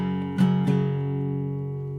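Guitar downstrokes that take in the lower strings: two quick strums in a row, then a chord left ringing and slowly decaying, with no voice over it.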